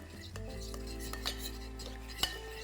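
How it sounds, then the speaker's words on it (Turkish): A spoon stirs black pepper and turmeric into a sauce for oven-baked cauliflower, giving soft scraping and rubbing against the pan over a steady low hum, with a light clink near the end, close and fairly quiet. "Şimdi iyice karıştırıyorum."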